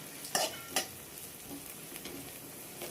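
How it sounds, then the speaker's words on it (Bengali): Lentils (dal) fry in a hot pan: two sharp scraping stirs come early, then a faint, steady sizzle continues close by with no talking. "একটু ভালো করেই ভাজি"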